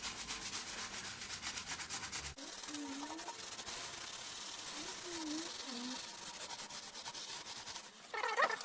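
A rusted paella pan is scrubbed with vinegar in a series of soft, rhythmic rubbing strokes. Faint tonal squeaks come through, and a sharper scrape sounds near the end.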